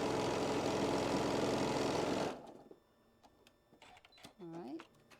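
A sewing machine runs steadily and loudly for about two seconds as it stitches a quilt block for a teal-toned block-of-the-month quilt, then stops and a person begins talking.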